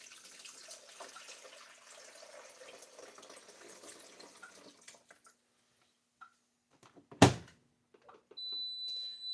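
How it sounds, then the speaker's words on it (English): Fresh water running from a tap to fill a coffee machine reservoir, a steady washing rush for about five seconds, then quiet with a sharp thunk and faint clicks near the end. "And then I take fresh water and I fill it up."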